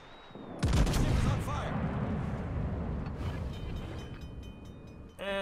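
Warship broadside gunfire in World of Warships: a heavy salvo booms in close and loud, then rolls into a sustained low rumble of further shots and blasts, with a fresh boom right at the end.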